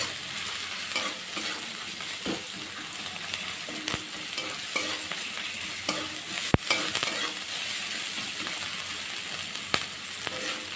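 A spice mixture with black pepper being stir-fried in a pan over medium heat, a steady close sizzle with frequent scraping stirs and occasional sharp clinks of the utensil, no talking.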